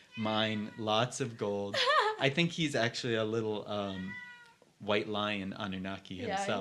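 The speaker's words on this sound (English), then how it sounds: "That's our cat" Prince, a pet cat, meows repeatedly in long, drawn-out, talkative calls close by, with a person briefly speaking among the meows.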